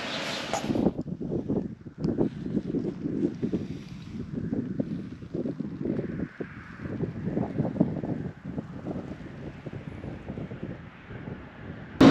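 Gusty Patagonian wind buffets the microphone in uneven rumbling bursts, rising and falling continuously throughout, with a faint hiss in the background.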